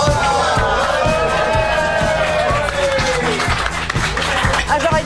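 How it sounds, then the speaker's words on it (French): Customers in a small French bar-restaurant, the Blue Bar in Chilly-Mazarin, clap together in a loud, close burst of applause, with a crowd murmuring and cheering through it. "Ils sont ravis, ils ont applaudi."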